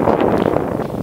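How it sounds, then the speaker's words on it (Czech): Wind gusting outdoors on a ride through open countryside, a steady rough rumble buffeting close against the microphone with no voices. "fouká celkem vítr"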